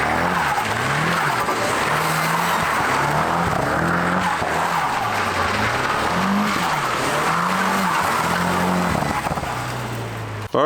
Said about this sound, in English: I did a couple little donuts, as you saw.